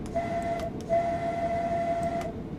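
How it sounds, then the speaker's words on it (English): A depot whistle in the Train Sim World 2 railway game on the East Coastway line sounds as a steady tonal blast, cut briefly then resumed, over a low rumbling background. "Depot whistle."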